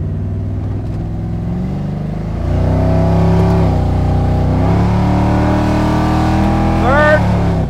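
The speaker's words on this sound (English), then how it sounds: "Man, this motor runs good." A 1972 Pontiac LeMans engine pulls through first gear, then revs up louder as it shifts and accelerates, a steady close rumble with rising pitch that climbs again near the end.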